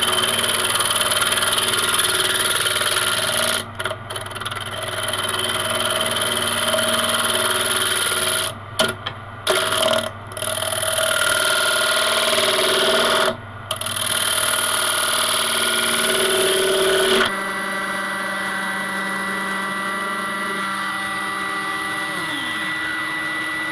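A wood lathe turning the face of a wooden platter hums loudly and steadily, with a tool scraping across the spinning wood and brief drops in the noise, before settling to a quieter, lower whirr.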